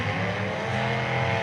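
A demolition derby car engine roars steadily at a team derby event, a loud continuous drone with no break across the short stretch.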